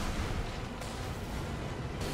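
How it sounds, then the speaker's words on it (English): Rail cannon firing in Armored Core VI, a dense, loud, sustained roaring blast that fills the whole short moment with heavy low rumble and broad crackling noise, without talk. "Preparing to fire rail cannon."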